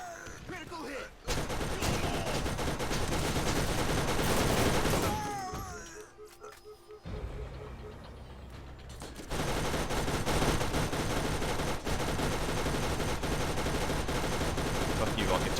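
A rocket turret in Borderlands fires missiles in loud, rapid volleys of blasts that run steadily, drop away briefly midway, then resume at full strength.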